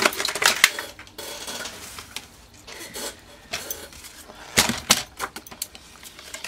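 Paper being cut by hand, sheet trimmed at a 1 7/8 inch score mark during a craft build: a run of short, crisp snips and scraping cuts in irregular bursts, fairly close and moderately quiet, with no talking.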